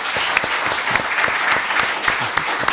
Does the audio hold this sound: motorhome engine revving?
no